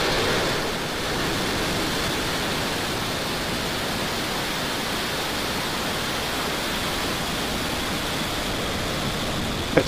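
Turksat 5B rocket liftoff rumble heard from Titusville, a broad, steady roaring wash of noise that stays constant and fairly loud for about ten seconds with no voices over it.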